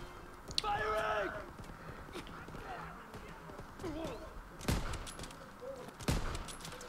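Gunfire in the Call of Duty WW2 video game: a few sharp shots crack out across the clip, the loudest near the end, set against steady background battle noise with a voice talking.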